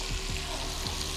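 Butter sizzles in a pan as a little flour is stirred in for a roux, with a steady frying hiss throughout and a few soft low scrapes of stirring.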